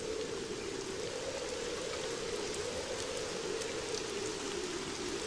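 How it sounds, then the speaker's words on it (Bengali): A cartoon sound effect of rain during a storm: a steady, dense hiss of rainfall on surfaces, continuous and even throughout, with no voices. "আর বৃষ্টি থামবার তো কোনো নামই নেই।"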